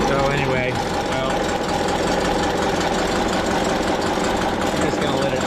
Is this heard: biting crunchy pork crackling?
no